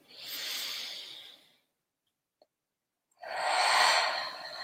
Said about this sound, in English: you can take a few deep breaths now.